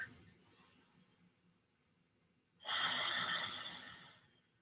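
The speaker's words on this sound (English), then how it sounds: "Breathing here." A single soft breath during a yoga tricep stretch, a quiet pause followed by a steady, airy exhale or inhale lasting under two seconds, close to the listener.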